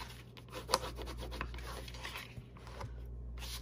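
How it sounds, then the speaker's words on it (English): A paper pocket for an accordion album is burnished flat with faint, soft rubbing and scraping strokes up close, plus one sharper tap near the start. "Now we want to burnish it down. It just makes it easier and lays flat."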